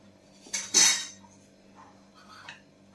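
A metal cooking pot is set down and handled on a gas stove, with a loud clattering scrape near the start followed by a couple of lighter clinks against a low steady hum.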